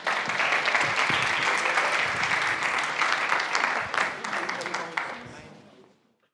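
A crowd at an eloquence contest final at ENSTA Paris applauds the next speaker, dense sustained clapping that holds steady and then fades out to silence over the last seconds.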